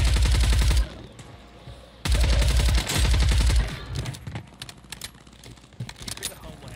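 Automatic gunfire in the video game Warzone roars out in two loud, rapid bursts, followed by scattered clatter, while players talk excitedly over it.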